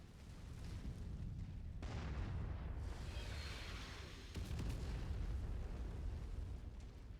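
Heavy artillery barrage in the mech combat game Mechwarrior 5: a dense, continuous roar of explosions and rumbling booms, loud and sustained with a few sharper bursts, no voices.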